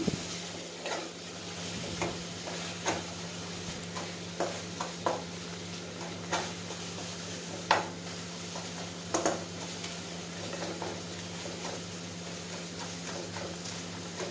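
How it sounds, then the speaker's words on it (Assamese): Sugar mixture for kalakand stirred in a pan, with repeated soft scraping taps of a spoon against the pan over a steady low sizzle and hum. "আপুনি কনষ্টেণ্টলি লৰাই থাকিব, লৰাই নাথাকিলে তলত লাগি যোৱাৰ ভয় থাকে।"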